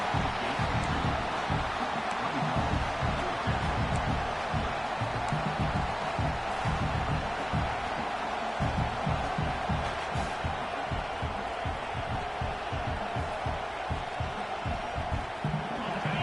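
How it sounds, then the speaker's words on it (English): A dense football stadium crowd roars continuously at Darrell K Royal stadium on third down, a loud, sustained wash of cheering and shouting from thousands of fans with no pauses. "Horns up and ready to hook them. Serious noise on 3rd down in DKR."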